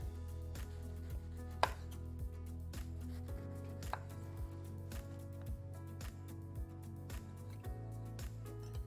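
A knife cuts through a fresh lemon for a cocktail garnish, a quick series of regular light taps against a board, close and faint under a low steady hum.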